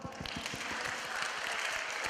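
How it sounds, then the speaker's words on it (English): A group claps together on cue during a 'Shakespeare says' game, producing a dense, steady patter of hand claps that fills about two seconds without pause. "give yourselves a big clap"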